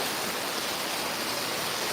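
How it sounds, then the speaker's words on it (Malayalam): A dense, continuous wash of heavy rain, loud and unbroken, like a downpour close by. "നല്ല മഴ"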